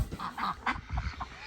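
Ducks honk and quack in a muddy duck pen, a close, busy flurry of several short, overlapping calls.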